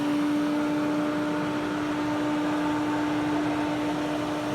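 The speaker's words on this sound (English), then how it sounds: "I'll just turn the welder on. You can hear the sound." A Firepower MST 220i welder's cooling fan runs just after power-on, giving a steady close whirring drone with a constant tonal hum and no speech, holding evenly for a few seconds.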